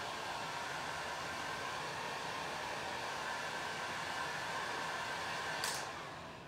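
A heat gun blows hot air over an applique on painted furniture, a steady close whooshing roar that holds evenly for several seconds with a brief click near the end.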